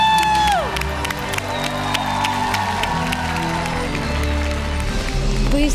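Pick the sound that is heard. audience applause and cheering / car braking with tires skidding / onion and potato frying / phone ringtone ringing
audience applause and cheering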